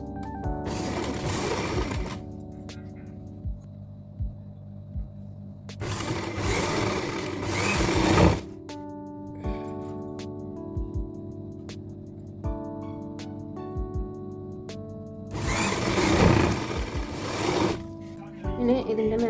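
A sewing machine stitches an abaya in three loud, close bursts of rapid mechanical chatter, separated by quieter stretches where someone talks.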